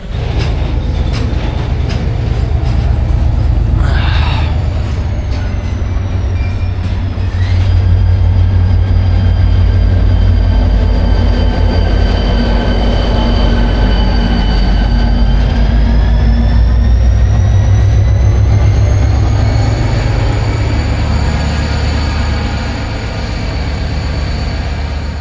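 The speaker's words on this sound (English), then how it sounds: "this container train is kind of coming to life." A container train starts to move with a loud, close, continuous rumble of heavy wagons, while high wheel squeals and whining tones rise and slide throughout.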